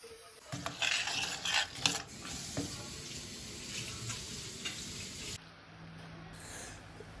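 Water poured or running into a pan for boiling jaggery in a sweet snack recipe, a steady splashing gush with clinks and stirring, loudest early, then thinning to a quieter trickle near the end.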